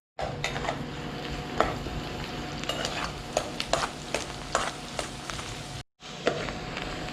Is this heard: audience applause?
no